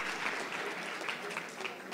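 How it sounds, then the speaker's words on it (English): An audience at a conference applauds keynote speakers, with steady, moderately distant clapping that continues evenly throughout. "Give them another round of applause"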